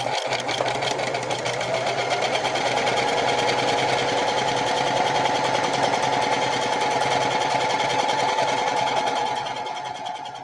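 Sewing machine running steadily and loudly without pause, top stitching a tote bag made from bandanas, with a fast even mechanical whir that eases off at the very end; no talking.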